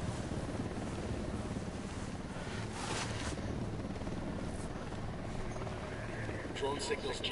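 A helicopter in the video game Ghost Recon produces a dense, steady rotor and engine roar that fills the whole stretch, with voices talking over it.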